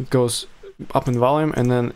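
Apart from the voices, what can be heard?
No everyday noise stands out behind the speech.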